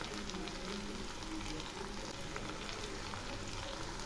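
Pumpkin greens dropped into hot spiced oil for a vegetarian Bengali dish, giving a steady, dense sizzle and crackle that holds evenly throughout, close and moderately loud with no talking.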